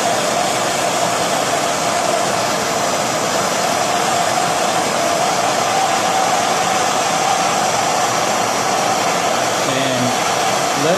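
A MAP gas torch roars loud and steady at close range for the whole stretch while heating a spoon held in a vise.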